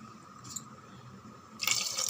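Water poured into a cooking pot of toor dal and moong dal with vegetables, a soft brief trickle and drip early on, then a louder splashing pour near the end.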